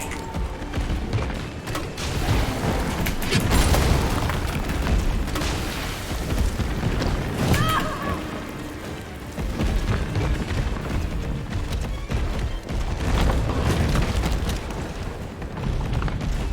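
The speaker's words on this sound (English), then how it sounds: "Here's my last grenade. Enjoy that, Nemi." A grenade blast in the Resident Evil 3 Remake video game: loud, booming, dense in-game explosion noise that rolls on for several seconds among ongoing combat sounds, with no speech.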